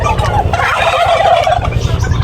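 Several turkeys gobble loudly and close by, their rapid warbling calls overlapping in a continuous burst.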